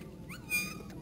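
A Brittany puppy gives a short, high, thin whimper that rises and falls, faint and close, over quiet background noise.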